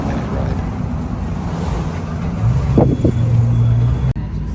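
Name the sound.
shared taxi ride to Coki Beach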